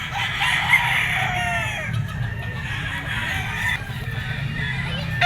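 A three-year-old Leiper Hatch fighting rooster crows loudly and close at a busy pet market. The long, wavering call carries over faint crowd noise and other birds.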